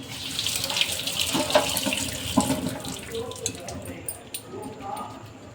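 Water is drained off boiled cauliflower, splashing and trickling into a sink at close range, with a few soft wet squelches and drips as it tapers off.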